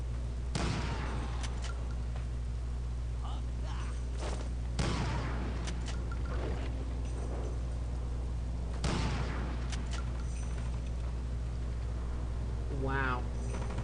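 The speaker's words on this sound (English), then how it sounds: "Goes to show you the power of the trench shotgun." Trench shotgun blasts in the video game NecroVisioN, three loud, sharp booms spaced a few seconds apart over a constant low rumble, with talk in between.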